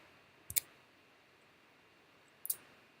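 Two sharp, quiet computer key or mouse clicks about two seconds apart in an otherwise hushed room, pressing the ESC key on a computer.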